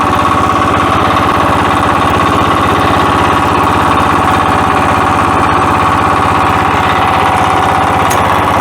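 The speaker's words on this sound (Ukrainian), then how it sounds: "Досить зручно працювати цим мотоблоком." Weima Kama Kipor 610 walk-behind tractor engine running steadily, a loud, close, continuous rough drone with a fast regular rattle and no pauses.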